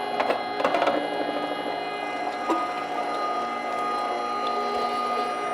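Meat grinder grinding turkey and pork for sausage, a steady close mechanical whir with a constant motor hum, a few knocking clatters near the start and middle, no talking.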